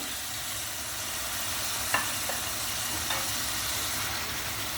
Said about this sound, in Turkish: Bakın ben çok yumuşak karıştırıyorum bu aşamada.